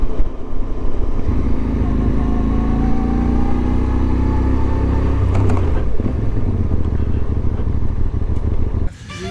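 Motorcycles ride toward the Hivernale des Millevaches winter rally, a steady loud engine drone with shifting pitch as the bikes accelerate, then ease off near the end.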